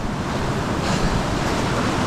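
A mountain river in South Canterbury rushes steadily with loud, broadband turbulent water noise that fills the whole stretch without pause.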